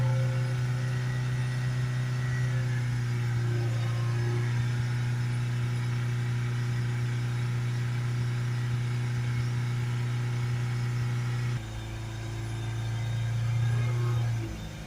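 Ford Focus 2.0 TDCi diesel engine held at a steady 3000 RPM, a constant loud hum that drops back toward idle near the end, heard up close with no talking.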